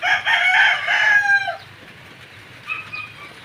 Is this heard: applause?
no